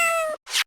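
A cat meows twice in Phoenix Wright: Ace Attorney - Justice for All: a clear, drawn-out tonal meow, then a shorter, breathier second cry after a brief pause. Both are close and loud, with no talking.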